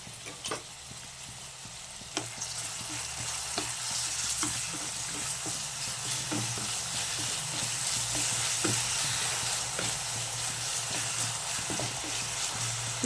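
Onions, green chillies and curry leaves frying in a pan, a steady loud sizzle with occasional stirring scrapes and crackles throughout, no talking.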